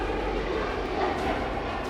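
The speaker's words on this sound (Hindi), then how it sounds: "रूस ने इन हमलों के लिए MiG-31 के फाइटर जेट का इस्तेमाल किया।" Roar of a MiG-31 fighter jet, a steady broadband engine rumble filling the whole span at constant loudness, with no voices.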